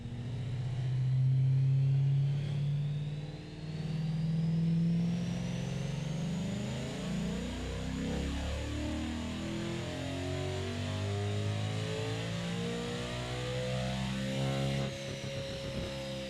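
Car engine revving on a dyno in a video game mod (the D300 dyno), a loud, sustained drone whose pitch rises and falls smoothly through the run with no talk over it.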